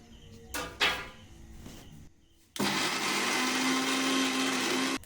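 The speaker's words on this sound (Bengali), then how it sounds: "এবার মিক্সার করে নেবো" Mixer grinder blending dry chillies, garlic, onion and cumin: some clatter and handling noise, a short pause, then a loud steady whirring motor that runs for about two and a half seconds and cuts off.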